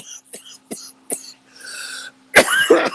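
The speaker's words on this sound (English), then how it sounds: "Yeah, cough it out." A person coughs several times in short bursts, close and loud, with throat clearing, ending in a harsher fit of coughing.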